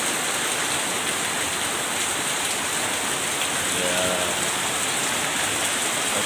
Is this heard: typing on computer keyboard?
no